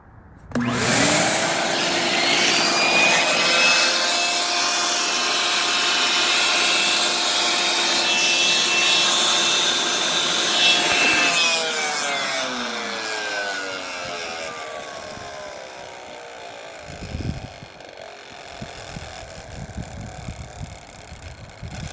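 A Kirby Zipp brush attachment running on a Kirby vacuum cleaner gives a loud, steady motorized whine and rushing airflow that holds for about eleven seconds, then winds down in pitch, followed by faint rubbing and clicks.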